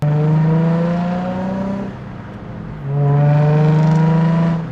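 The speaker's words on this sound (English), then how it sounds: "the factory Nismo catback exhaust, it does actually sound pretty good." A Nissan with a VQ engine and factory Nismo catback exhaust revs up twice, a loud, close, smooth drone rising in pitch, dipping briefly between the pulls, with no voices.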